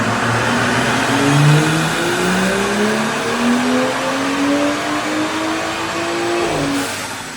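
A car with a Stage 2 tune revs hard on a dyno, its engine note climbing steadily through the gears in long rising sweeps, loud and close, with a brief drop near the end.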